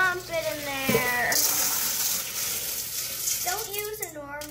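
Water poured out of a fishbowl into a cooking bowl, a broad splashing gush lasting a few seconds, with a person talking briefly before and after it.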